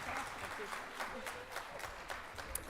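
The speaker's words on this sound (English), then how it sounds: "Let's give them all a round of applause" Conference audience applauding a panel, soft, fairly distant clapping that fades in and out, with faint voices murmuring underneath.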